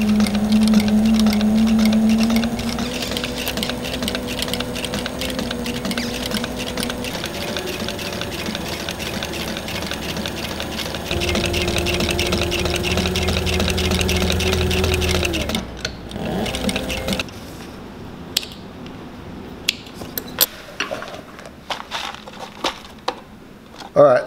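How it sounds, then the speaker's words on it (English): A sewing machine stitches worn leather work boots, running fast in a loud, steady mechanical whir for about fifteen seconds, then slowing to scattered clicks and short bursts near the end. "we're gonna go stitch these"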